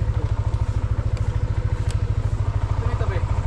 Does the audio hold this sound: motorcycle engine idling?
yes